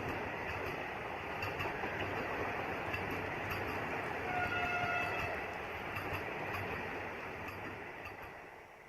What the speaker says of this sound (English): Vande Bharat, the latest addition to Indian Railways, are the indigenous semi-high-speed trains linking around 40 cities